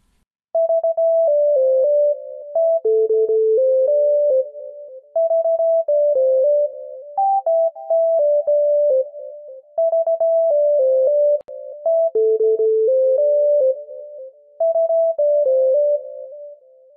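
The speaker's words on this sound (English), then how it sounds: "I literally started with this melody that I played with my MIDI, and it sounds like this." A simple melody played on a MIDI keyboard, produced as a clean sine-like synth tone in FL Studio, steps through repeating phrases of sustained notes with brief gaps between them over about seventeen seconds, alone and with no talking.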